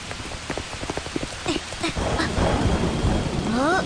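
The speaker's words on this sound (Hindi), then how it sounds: "बिजली कड़क रही है।" Thunder in a storm, a deep rumbling crack building over rain and background noise, preceded by rhythmic clattering steps, with a rising whistle-like tone at the end.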